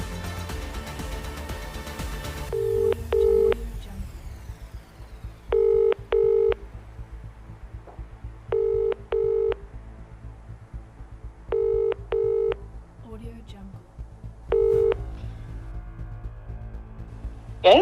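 A phone call being placed: a string of paired keypad dial tones pulses at even intervals over a steady background hum, ending with a faint ringing cue, with no talk.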